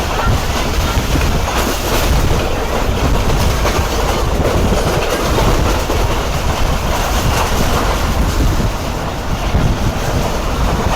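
The Islamabad Express in Pakistan rushes along at about 110 km/h, loud and close, with a steady roar of rolling wheels and rattling carriages throughout.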